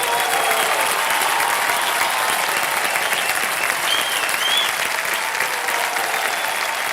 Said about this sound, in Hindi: तालियां बज जाएं इनके लिए एक बार फिर से